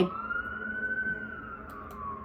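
An ambulance or police siren passes outside a home, one long rising and falling wail heard through the walls at moderate distance, with faint indoor noises underneath.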